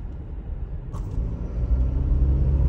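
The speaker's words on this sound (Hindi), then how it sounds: "ये ट्रैफिक देखो एक बार" Heavy road traffic jam: a low, steady engine rumble of idling and creeping vehicles that gradually swells louder, with a faint short honk-like blip early on and no talking.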